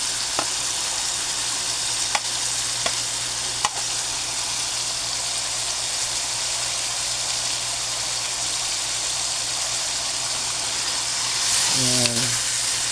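String beans sauté in a pan as a steady, fairly loud sizzle fills the whole stretch, with a few faint taps of a utensil and a brief louder stir near the end.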